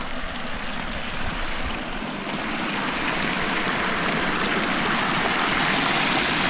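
A stream of warm water near La Guancha on Tenerife flows in a steady, broad rush and gurgle, close and continuous without pause, with no voices over it.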